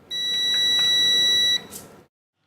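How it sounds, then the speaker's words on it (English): A multimeter sounds its continuity beep on a closed circuit while a toy is being hacked: one sustained, shrill electronic tone holding for about a second and a half before cutting off abruptly. "A closed circuit will beep."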